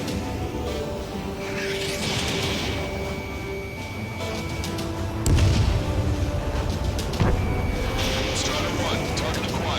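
Explosions sound as an anti-aircraft gun is destroyed in Ace Combat 7: Skies Unknown, with deep booms and sharp cracks against a constant roar of jet and battle noise, while radio voices talk over it.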